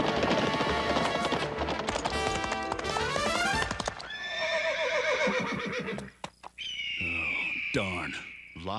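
A cartoon horse whinnies loudly over rapid galloping hoofbeats, then a second shrill neigh rises and fades as the hooves keep pounding.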